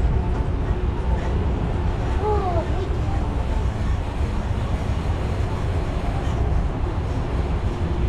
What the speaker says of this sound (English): This tram will be returning to the main entrance plaza in just a few moments.